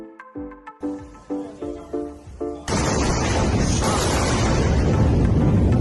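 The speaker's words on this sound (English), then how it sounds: "Double sonic booms." Double sonic booms from a returning SpaceX rocket booster landing arrive as a sudden loud blast that rolls into a sustained deep rumble, following a few plucked musical notes.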